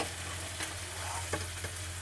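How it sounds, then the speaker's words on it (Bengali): Morola fish frying in white oil in a wok give a dense, continuous sizzle, close and even, with a couple of brief crackles and no talking. "আবার দিয়ে দিলাম মৌরলা মাছ কড়াতে, আবার এরকম সাদা তেলে ভেজে নেব"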